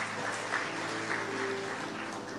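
Congregation applauding for Jesus at a church service: a steady, even wash of clapping that holds throughout, fairly quiet and diffuse, as if heard from within a large room.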